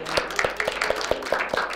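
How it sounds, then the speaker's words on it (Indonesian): Students in an Indonesian primary classroom clap their hands together in a quick, steady rhythm, each clap a sharp, close slap repeating about every fifth of a second. "Tepuk tangan."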